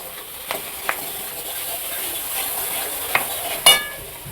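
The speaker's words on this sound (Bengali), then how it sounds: "দেখুন আমি এই মশলাটার সঙ্গে এটাকে ভালো করে কষিয়ে নিচ্ছি" A fish head is being stir-fried with ground coriander, chilli, turmeric and salt over low flame, giving a steady close sizzle under scraping strokes and a few sharp clinks of a utensil against the pan.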